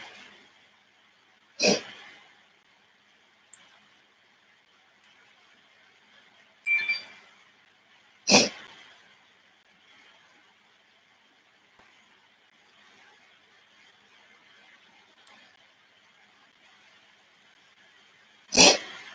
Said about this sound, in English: Sorry, I keep sniffling